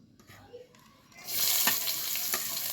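Chopped garlic drops into hot oil in a wok partway through, setting off a loud, steady close sizzle that continues to the end after a quieter start.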